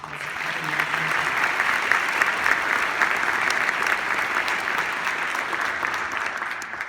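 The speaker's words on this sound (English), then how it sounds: "So if you would please give them a round of applause." A concert audience at a regional symphonic band performance applauds in a dense, even wash of clapping that holds steady from start to finish with no talk over it.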